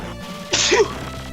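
One sharp, loud sneeze close to the microphone, a single quick burst rising out of quiet background noise during a gaming session.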